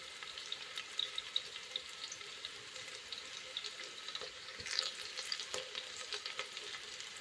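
Onions frying in a pan for vegetable pulao, a soft steady sizzle with occasional scrapes and clicks of stirring, close by, no voices.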